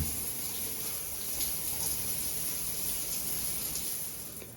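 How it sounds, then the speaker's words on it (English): Steady hissing rush of water pouring from a waterfall shower head in a hotel room, continuous and close, fading slightly at the end. "now we've got the shower hose. Yay! And the waterfall."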